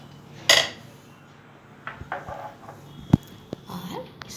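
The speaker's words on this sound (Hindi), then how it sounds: "तो ये आप एक बाउल में मिक्स कर लीजिए अच्छी तरह से" Sprouts and chopped onion are stirred in a bowl, giving a few sharp spoon clinks against the bowl and soft scraping knocks, with quiet room noise between them.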